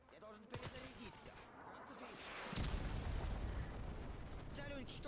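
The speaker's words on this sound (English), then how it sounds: "I'm gonna use this Predator missile." A Predator missile explosion in a video game lands about halfway through as a deep, booming blast, then rolls into a sustained low rumble that fills the rest of the clip over faint game noise.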